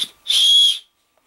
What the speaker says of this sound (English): This one's actually got a little whistle inside of it here too. They call it a survival whistle.